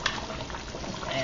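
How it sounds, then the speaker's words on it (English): Brown stew chicken simmering in a covered pot, giving a steady, soft bubbling hiss with faint liquid gurgles throughout, fairly quiet and continuous. "just cover this up, and it's going to be simmering for about a good 35 minutes"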